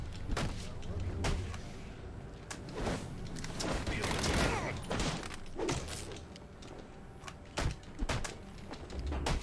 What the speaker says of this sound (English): Oh, that's a gun. I hear a gun.